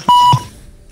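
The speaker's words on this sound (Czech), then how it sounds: "Co je tam to pípání pořád?" A single sharp electronic beep sounds during a gaming session, followed by a second short tone and a fading tail, loud and isolated with no talking.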